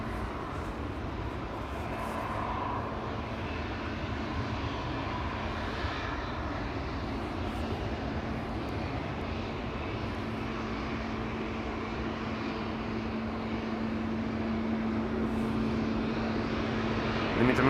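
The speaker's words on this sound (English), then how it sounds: "E2 Embraer lining up over here" KLM Embraer E2 jet airliner at Amsterdam Schiphol Airport gives a continuous, fairly loud engine roar and broadband rumble with a faint steady whine, unchanging throughout.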